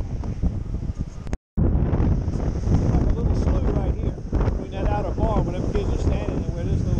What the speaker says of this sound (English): A lot of sand blowing. Look at the sand blowing.